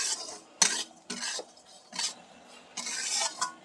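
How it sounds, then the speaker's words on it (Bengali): Semolina dry-roasting in a pan for halwa, with a spoon scraping and stirring in several separate strokes, close and moderately loud, each stroke a short gritty scrape. "এর মধ্যে আমি সুজিটাকে ভেজে নিচ্ছি"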